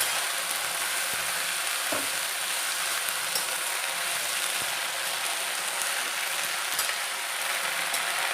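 Washed greens for karoda kuhru bhaji sizzle steadily in a hot pan with turmeric, a close, even hiss of frying with a few faint clinks of stirring.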